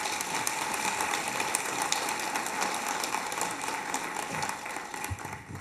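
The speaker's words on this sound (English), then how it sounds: "please let's give Alderman a warm round of applause" Audience at a Neighborhood Watch awards ceremony giving a warm round of applause, dense sustained clapping from a large crowd filling the hall, steady throughout and tapering slightly at the end.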